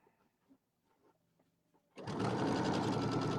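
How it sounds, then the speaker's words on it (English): A sewing machine stitches around the outside edge of an Easter settee pillow, starting after a few quiet handling clicks and running as a loud, rapid, continuous whir close by. "we're just going to sew all the way around the outside edge and hold this all together"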